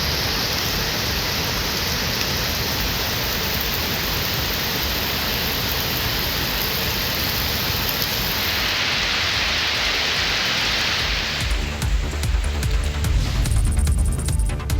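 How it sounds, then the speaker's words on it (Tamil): Moderate rain pours steadily over a Chennai suburb such as Tambaram or Pallavaram, a dense, even hiss that runs throughout before turning rougher and more spattery near the end. "மிதமான மழை பெய்தது"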